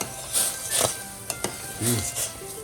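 Egg and parmigiano being beaten together in a bowl for pasta: a series of quick scraping, clinking whisk strokes in short bursts, close up, with a brief voice sound partway through.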